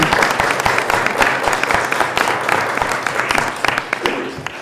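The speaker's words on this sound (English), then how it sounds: "Let's give Brianna another round of applause." An audience breaks into sustained applause for a woman named Brianna at a governor's event introducing women's equality legislation, dense steady clapping throughout with no voices over it, tapering slightly near the end.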